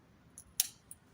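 Pruning scissors snip a hawthorn branch on a collected yamadori tree: a few quiet, close metallic clicks, with one sharp cut standing out in the middle of an otherwise hushed outdoor setting.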